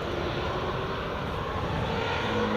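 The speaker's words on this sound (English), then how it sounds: "And WestJet's just taxiing in now." WestJet airliner taxiing at Edinburgh Airport, a steady loud jet engine roar that holds at a constant level throughout.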